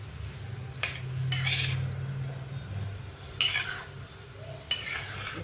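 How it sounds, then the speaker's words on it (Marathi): Sweet potato slices roast in ghee in a pan with intermittent stirring and scraping, plus a few clinks of a utensil against the pan over a low, steady cooking background. "तुपात असा हा छान असा भाजून घ्यायचा,"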